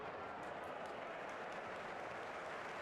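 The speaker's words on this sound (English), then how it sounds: "You can hear the applause from the Queen's Park Rangers fans when they're getting back in" Queens Park Rangers fans applauding in a football stadium, a faint, distant, continuous patter of clapping that holds steady for a few seconds with no voices over it.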